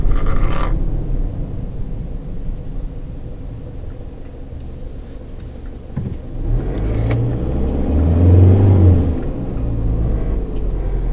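A Mazda BT-50 3-liter diesel pickup engine rumbles deeply and steadily, then revs up louder midway, a low throaty roar swelling and easing back to a heavy idle.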